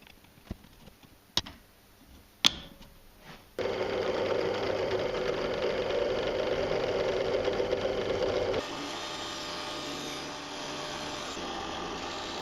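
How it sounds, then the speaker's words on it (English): A drill bores holes through knife handle scales, starting after a few sharp knocks. A steady, fairly loud whirring drone follows and runs on, then drops to a lighter pitch partway through. "drilled the same 3 holes using the pins for alignment"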